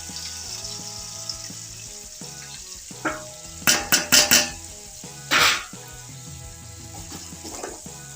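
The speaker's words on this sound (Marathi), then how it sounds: "आता यातच आपण रवा घालून भाजून घेऊया" Semolina roasting with raisins in a pan for Satyanarayan prasad, giving steady low frying noise with a few sharp stirring scrapes and clinks of the spoon against the pan in the middle, close and moderately loud.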